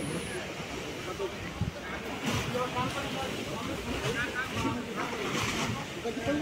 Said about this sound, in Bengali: আর এটি হলো আমাদের জেটির একদম শেষ প্রান্ত।